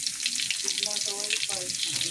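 Garlic frying in oil in a pan as the base for ginisang alugbati, a Filipino sautéed greens dish, giving a continuous close crackling sizzle with faint popping and soft stirring, a brief murmur of voice underneath.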